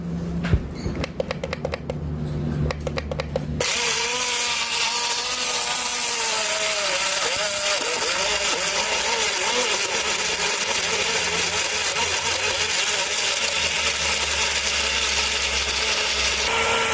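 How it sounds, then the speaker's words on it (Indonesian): A kitchen blender blending cabbage with about 100 ml of water into a smoothie grinds loudly and continuously after a few seconds of rattling and knocking, its motor roaring steadily close by with a shifting churning tone. "Sekarang kita akan blender."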